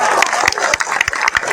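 Audience applause at a speech in India, steady clapping from a gathered crowd with sharp individual claps standing out, fairly close and continuous.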